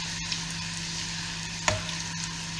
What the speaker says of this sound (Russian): Жарятся они очень быстро, поэтому нужно все время помешивать.